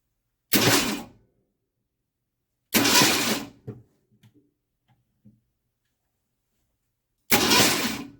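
A 1964 Mercury Comet engine that sat unused for 23 years cranks in three separate bursts of about half a second to a second each, loud and close, with faint clicks between them.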